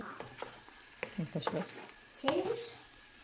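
Pasta with zucchini stirred in a hot pan, giving a few scraping, clattering strokes with a faint sizzle underneath, brief and close, with muffled voices around the movement.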